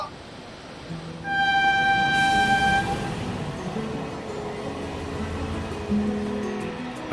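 A train on the Lhasa–Nyingchi railway in Tibet sounds a loud, sustained horn blast over a steady rumbling engine, then continues running with a low drone.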